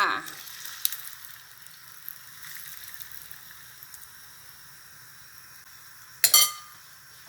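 Oil sizzles steadily as an egg omelette with mussels fries in a pan, with a sharp metallic clink of utensils near the end.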